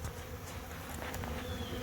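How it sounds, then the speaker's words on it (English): Bumblebee buzzing steadily close by among other bees outdoors, a continuous droning hum with no voices. "There's a bumblebee right there"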